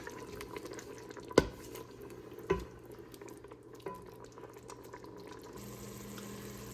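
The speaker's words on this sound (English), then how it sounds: "And now I kind of simmered it a little bit." Tomato sauce with garlic, onion and whole tomatoes simmers in a pot, giving a soft, steady bubbling hiss broken by two sharp nearby clicks early on.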